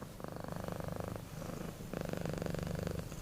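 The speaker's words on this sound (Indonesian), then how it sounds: "Inilah 3 alasan kenapa kucing kita mendengkur" A domestic cat purring up close in a steady, rumbling rhythm, with two long purring stretches separated by a brief softer pause.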